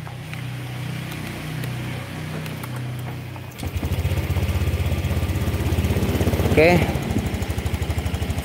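A cold Honda Vario scooter engine starts up and idles roughly and unevenly, a loud close rhythmic putter that rises and fluctuates after a quieter opening with a brief spoken word.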